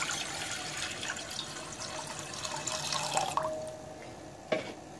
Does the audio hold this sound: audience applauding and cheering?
no